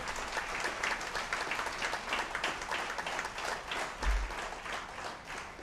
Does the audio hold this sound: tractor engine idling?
no